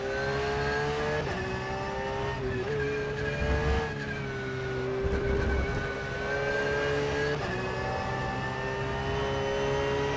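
A race car engine drones steadily through a lap in a sim racing video game, its loud continuous tone rising and falling with shifts and throttle changes.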